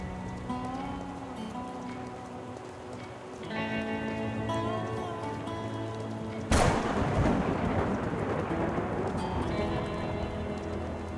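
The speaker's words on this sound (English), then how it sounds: "Lightning splits the sky apart. And a heartbeat later, the thunder roars." In the Rue Valley video game, steady rain hisses under soft music until a sudden loud thunderclap breaks in, followed by a heavier rumbling downpour that carries on.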